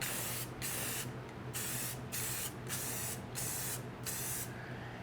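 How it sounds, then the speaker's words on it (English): An aerosol spray paint can hisses in a rapid series of short bursts, about eight sprays with brief gaps, as it coats a surface close by. "So now that I can spray the surfaces that were away from me."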